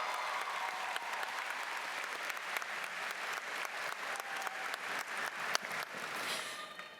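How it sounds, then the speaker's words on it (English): A large crowd at a high school graduation ceremony applauds in a steady, continuous roar of clapping that stays loud and even before tapering off at the end. "give them a round of applause"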